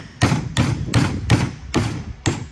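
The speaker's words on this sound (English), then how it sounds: "So I'm going to hammer that one in." A hammer drives a 16 nail into lumber with six evenly spaced, solid, close blows, each a sharp strike with a short thudding tail.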